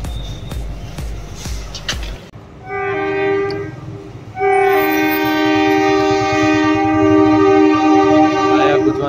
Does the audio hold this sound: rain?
no